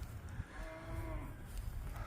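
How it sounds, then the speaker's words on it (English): Cattle on a farm mooing, a drawn-out low moo rising from the herd, moderately close, with wind and outdoor noise around it and no talk. "Cows that are Not happy with me."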